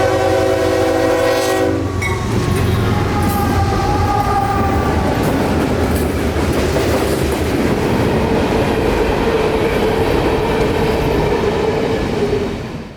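A freight train horn sounds loudly for about two seconds, then the heavy freight train rumbles and clatters past close by for a long stretch before fading.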